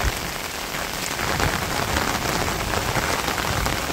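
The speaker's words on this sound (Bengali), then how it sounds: "যে সুন্দর বৃষ্টি হয়েছে" Heavy rain pours steadily over a village in Bangladesh, a dense, loud, even hiss of drops on surfaces with no pauses and no voices.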